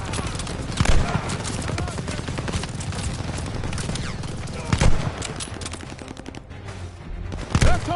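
Sustained gunfire in the World War II shooter Call of Duty: Vanguard, dense rapid bursts with heavier booming impacts recurring throughout, loud and close, with shouted combat voices mixed in.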